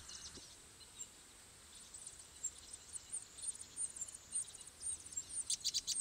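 Cuckoo chick begging from its host parent, giving thin, high, repeated calls that grow more frequent and insistent toward the end over a quiet outdoor background.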